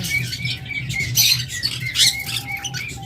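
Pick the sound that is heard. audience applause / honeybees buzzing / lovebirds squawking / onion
lovebirds squawking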